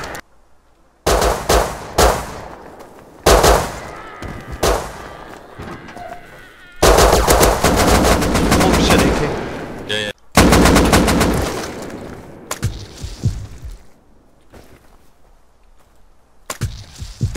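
Gunfire in the video game Rust during a PvP raid: sharp repeated shots and rapid bursts, loud and close, with a long sustained volley in the middle and brief pauses between.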